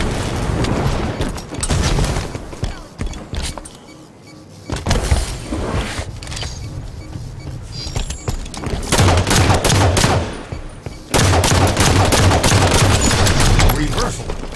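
Heavy energy weapon fire in the Destiny shooter game, bursts of blasts and booms separated by brief lulls, loud and dense with a voice briefly heard amid the action.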